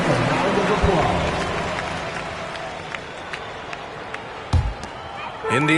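Crowd applause at an Indiana Pacers basketball game, a loud burst of clapping and cheering that fades over several seconds into arena murmur, with a few sharp bangs and thumps near the end.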